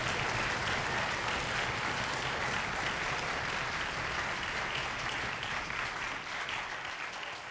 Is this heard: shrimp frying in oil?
no